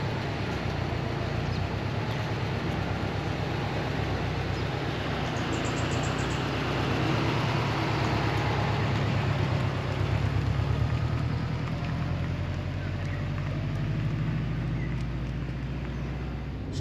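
Subaru Impreza WRX (GDA) with a turbo boxer engine drives along, a steady low rumbling drone with road and cabin noise that holds constant throughout, no talking.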